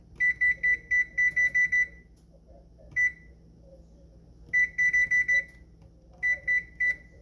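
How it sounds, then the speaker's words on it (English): Electronic kitchen timer beeping in quick bursts of several high, sharp tones, pausing between groups, with faint room noise underneath. "Timer."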